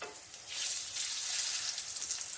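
Cutlet pieces fry in hot oil with a steady, close hissing sizzle that grows louder after the first half second and holds through to the end, with no voices.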